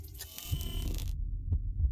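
A video game's vision-mode effect: a dense droning tone that cuts off abruptly, then gives way to a few low thumps.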